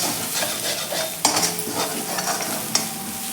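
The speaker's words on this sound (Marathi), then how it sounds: "यामध्ये आता हळद घालायची आहे, ती देखील आपण यामध्ये व्यवस्थित मिक्स करून घेऊया।" A spoon stirs turmeric into an onion mixture sautéing in a pan for potato patties, with a soft continuous sizzle and scraping strokes, two sharper knocks of utensil against the pan standing out, no talking.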